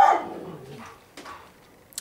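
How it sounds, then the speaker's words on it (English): A dog gives one loud, close bark that trails off, followed by a couple of fainter yips and a short sharp sound at the end. "these dogs are making a noise"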